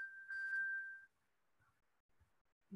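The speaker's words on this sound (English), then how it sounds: "Don't know what's causing my phone to make all that noise." A mobile phone gives a single clear notification ding lasting about a second during a symposium talk, then fades into quiet room tone with faint low thumps.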